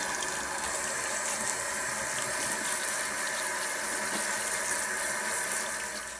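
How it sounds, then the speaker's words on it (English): Rocks being rinsed under a running kitchen sink tap: a steady, continuous wash of water noise with no breaks, close and even in level, with no talking. "I just put them in the sink and I am gonna give them a quick rinse."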